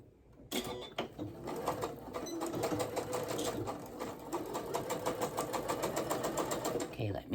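A sewing machine stitches pajama pants at a 5/8 seam allowance with backstitching, its steady rapid needle rhythm running loud and close for most of the stretch after a brief quiet start.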